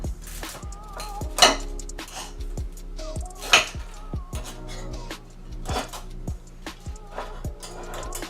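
Metal knife scraping and clinking against a skewer while chicken shish kabob pieces slide off, cooked in a Power Air Fryer Oven, with two sharp bright scrapes and scattered light clanks of dishes and utensils close by.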